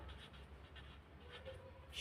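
Faint pen strokes on paper while a Kannada word is written out during a lesson, soft intermittent scratches over a quiet background, with a brief louder noise at the end.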